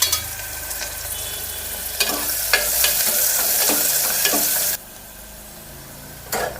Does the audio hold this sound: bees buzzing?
no